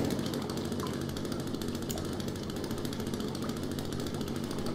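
A chainsaw idling in The Forest, a steady low rattling engine drone that holds constant and fairly faint without pauses.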